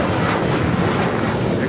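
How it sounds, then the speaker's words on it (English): An American Airlines Boeing 737-800 bound for Phoenix rolls for takeoff at Los Angeles airport, a loud, dense, continuous engine roar close by with no break. "This is American Airlines 1668 taking off to Phoenix on a 737-800."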